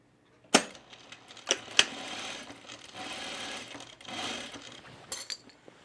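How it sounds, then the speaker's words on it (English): A domestic sewing machine stitches a Sintra halter top from the neck down, running in a few short bursts with sharp clicks and clunks between them, close and fairly quiet. "I'm going to try and sew it from this side"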